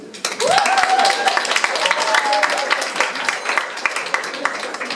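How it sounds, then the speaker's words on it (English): Loud, sustained clapping from a large crowd at the Future Generation Art Prize 2019 award ceremony, dense and continuous, with a voice briefly audible over it near the start. "So thank you very much, and please, an applause to them."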